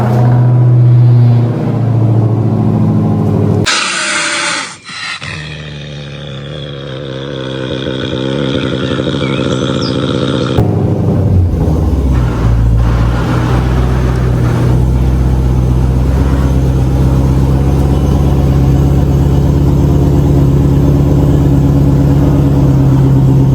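A Dodge Challenger SRT Hellcat with a 6.2-liter engine running loud and close, deep rumbling idle broken by sharp revs and a brief cutout, then settling into a steady heavy burble.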